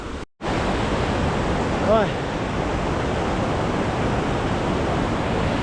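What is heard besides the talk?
mountain creek water flowing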